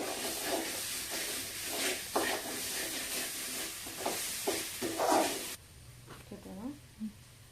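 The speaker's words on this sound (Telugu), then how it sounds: "అల్లం పేస్ట్ వేగిపోయింది." Ginger paste sizzles and hisses in a hot pan with turmeric for mutton liver fry, broadband frying noise with stirring scrapes that cuts off abruptly, leaving a quieter stretch where a voice briefly talks.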